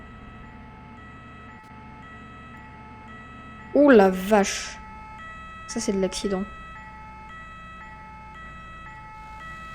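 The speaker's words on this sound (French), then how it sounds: "J'entends une sirène de SAMU." A faint two-tone ambulance siren in a video game alternates steadily in the background while a person briefly exclaims and speaks over it.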